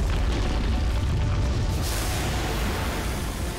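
A loud explosion from the video game Dota 2, heard during a professional tournament match, comes up close as a dense, roaring burst with deep rumbling low end, sustained for several seconds and slowly thinning out, with no voices over it.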